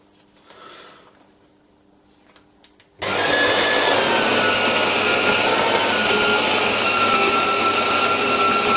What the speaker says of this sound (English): So we'll go back to the bandsaw, do a tiny bit of trimming, and continue.